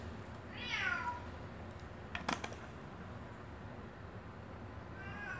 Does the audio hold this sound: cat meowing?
yes